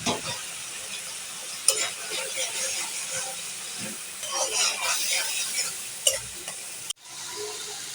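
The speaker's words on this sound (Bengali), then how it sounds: "দিয়ে দিচ্ছি চিংড়ি মাছ" Prawns hit a pan of cooked-down spice masala and fry with a steady sizzle, broken by scattered scraping stir sounds and clatters, before a sudden cut and quieter continuing hiss.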